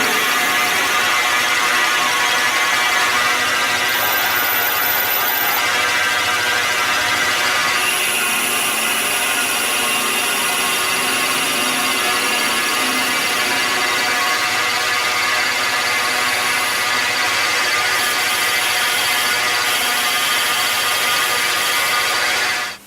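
A lathe turning down a metal workpiece, facing and reducing the width of a knob blank, making a loud, steady mechanical whir with a high whine that runs unbroken throughout.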